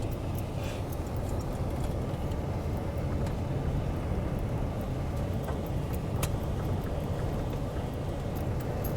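A vehicle drives along rough roads at a hunting club, a steady low rumble of engine and tires with faint rattles and small clicks, continuous and fairly close.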